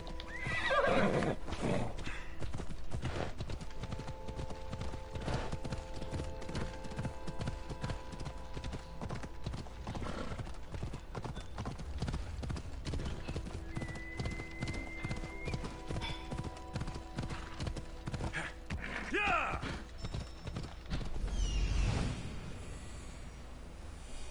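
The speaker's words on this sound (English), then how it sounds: "Here, horsey, horsey, horsey." Horse in the video game Assassin's Creed Odyssey, steady clip-clop hoofbeats running throughout with a few loud neighs and whinnies rising above, close and continuous against game ambience.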